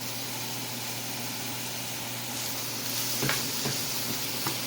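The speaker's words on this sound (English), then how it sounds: "I will start by sauteing the onions." Onions saute in a pan with a constant close sizzle, and a few light scrapes of stirring come near the end, with no talk.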